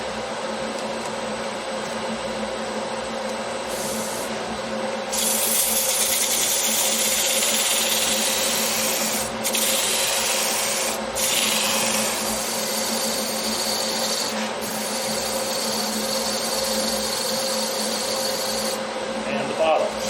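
Fine-grit sandpaper running against a dried green wooden bowl spinning on a lathe, a steady broadband hiss over the machine's hum throughout, with brief pauses and shifts in pressure.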